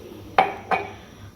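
Two sharp metallic clinks of pots and dishes being washed in a home kitchen, spaced a third of a second apart and close by, with no talking.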